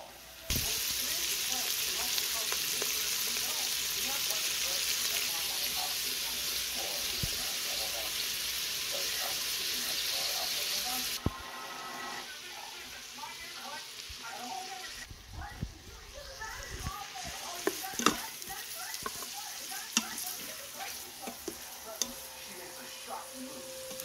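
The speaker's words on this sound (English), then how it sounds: "So now we're going to add our onion, and we want to cook this, stirring it occasionally until it just begins to brown" Onion frying in oil inside an Instant Pot for coriander braised pork, a dense steady sizzle that drops quieter midway, with a spoon scraping and stirring now and then and a voice talking over it.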